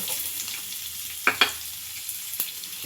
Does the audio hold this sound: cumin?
yes